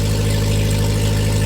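Subaru Sambar TT2 kei truck fitted with an iPunkz full exhaust and header, idling loudly with a deep, steady engine drone and a constant exhaust rumble, close by with no voices.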